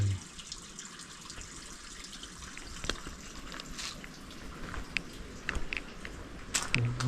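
Steady running water flows at a forest resting spot where hunters gather, a constant rushing wash with occasional splashes and knocks, fairly close and with no talk over it.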